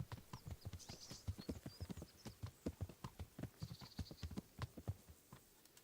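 Horse hooves clip-clop steadily in the Kingdom Come: Deliverance video game, a fast, even run of close, distinct hoofbeats with no talk over them.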